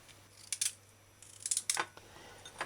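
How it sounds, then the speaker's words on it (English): Knife dicing carrots into small cubes on a cutting board while preparing boneless curried chicken, giving a few quick, crisp chopping taps in two short bursts, close and fairly quiet. "You can dice the carrots if you want."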